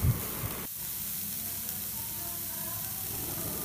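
Cabbage, potato and other vegetables sautéing in a hot pan for a Tamil veg bread roll filling, a soft continuous sizzle with a brief clatter near the start, steady and close, with no talking.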